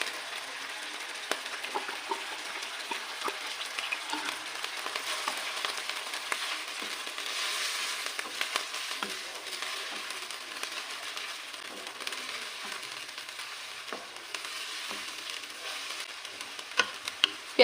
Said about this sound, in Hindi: प्याज में हम अपने चिकन को अच्छी तरह से फ्राई करेंगे